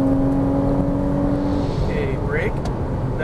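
A Ferrari 458 Italia engine heard from the cockpit, a steady mid-pitched drone with a rising whine late in the clip, continuous and close; an indistinct voice may be faintly present.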